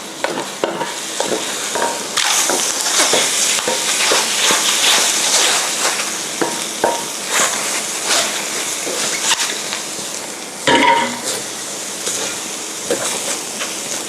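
Oyster omelette sizzles loudly in a hot pan while a utensil scrapes and stirs, with bursts of crackling hiss throughout.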